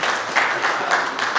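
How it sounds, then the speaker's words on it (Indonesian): An audience at a guest lecture claps in a short, dense burst of applause lasting under two seconds. The clapping is close and loud, with no voices standing out. "Tepuk tangan buat Pak Deputi."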